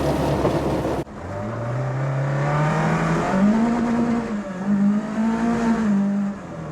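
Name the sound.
Mk2 Escort driving on snow with semi-slick tyres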